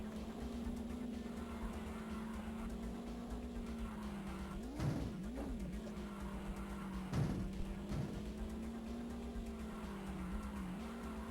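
A rally car in the video game Top Gear Rally drives on a slippery snow course, its engine droning steadily with rising and falling pitch and brief tire-skid noises, no talking heard.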